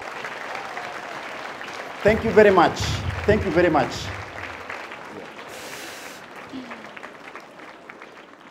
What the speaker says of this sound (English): I want us to appreciate these two very important people this morning by some very warm claps